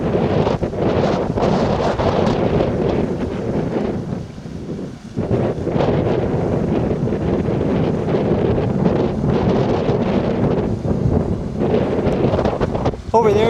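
Strong mountain wind near Army Pass and Williamson Bowl roars steadily across the microphone in loud, rumbling buffets that barely ease for the whole stretch.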